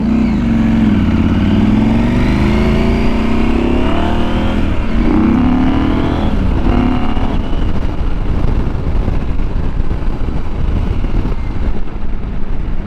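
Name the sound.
KTM 790 Adventure R motorcycle riding in fourth gear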